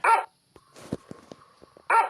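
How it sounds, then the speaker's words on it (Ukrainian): A dog barks in the video game Rusty Lake Roots, two loud barks at the start and end with a soft muffled in-game sound between them. "Собака гавкає."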